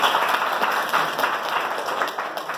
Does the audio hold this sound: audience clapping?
yes